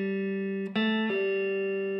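An electric guitar rings out with a picked, sustained note, then two quick pull-offs follow, each new pitch sounding softly and smoothly without a fresh pick attack. The playing is clean, alone and close.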